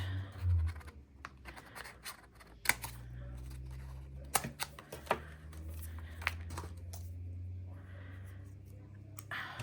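Scissors cut paper for a junk journal, producing close, quiet snips and crisp rustles in irregular bursts with small clicks and scratches between them, over a faint low hum.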